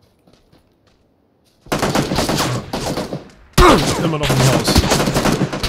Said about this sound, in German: Ich höre die Schüsse immer aus der anderen Richtung